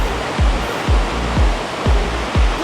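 Bopath Ella waterfall roars in a loud, steady wash of falling water, broken by a regular series of soft low thumps about half a second apart.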